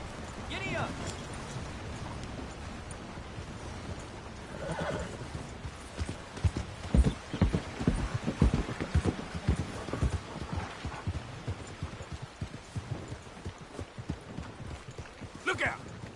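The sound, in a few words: horse galloping in a PS4 video game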